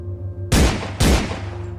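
Two loud, sharp gunshots in quick succession, each a booming crack with a short decaying tail.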